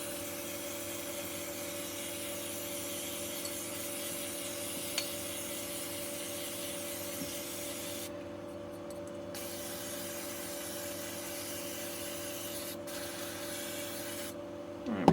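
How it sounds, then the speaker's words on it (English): Brake cleaner sprayed to blast out a Suntour HESC CAN e-bike hub motor during a teardown makes a faint, steady aerosol hiss that breaks off briefly twice before a small clatter at the end. "The rest will just be blast it out with a brake cleaner."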